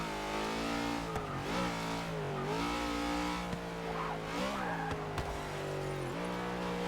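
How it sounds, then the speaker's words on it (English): Car engine in the Forza 6 racing game revs hard with rising and falling pitch, then launches for a wheelie, loud and continuous with tire squeal mixed in, no talking. "Just rev it up to about 8k, maybe full throttle and just let go."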